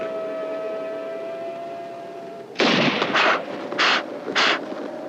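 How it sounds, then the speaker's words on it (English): A shotgun loaded with a plastic slug and a heavier powder load fires outdoors to drive off a bear: a steady tone gives way to a sudden loud blast, followed by several shorter sharp bursts. "fire the plastic slug, this time with a heavier powder load"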